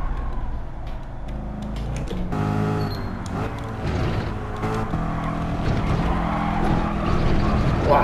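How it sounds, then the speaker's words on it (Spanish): A racing car in Gran Turismo sliding into a heavy skid, with a continuous engine drone and a rising screech of tires that grows louder over several seconds. "Demasiado derrape."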